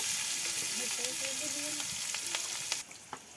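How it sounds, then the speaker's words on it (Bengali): Chopped onion and green chili frying in oil in a pan over a rural clay stove, a steady close sizzle with faint stirring scrapes, quieting near the end. "মুথা রান্নার জন্য পেঁয়াজ কুচি দিয়ে দিলাম কাঁচামরিচ কুচি"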